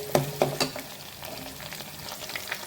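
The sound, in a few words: frying in oil for gooseberry pickle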